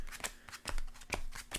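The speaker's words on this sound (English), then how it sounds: "So let's get a good shuffle here." A Yu-Gi-Oh card deck is shuffled by hand in a series of quick, soft riffling bursts, close and fairly quiet, with no talking.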